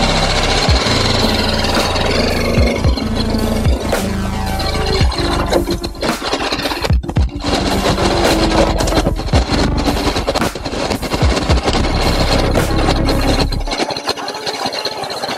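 BMW motorcycle engine running while riding on a road, a loud, rapid, rough mechanical chatter with irregular bursts and gear changes, continuous and close-up for most of the time before dropping off abruptly near the end.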